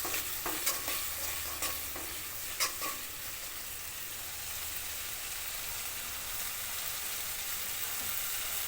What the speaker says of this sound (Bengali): সামান্য জল দিয়ে মশলাটা কিন্তু ভালো করে কষিয়ে নিতে হবে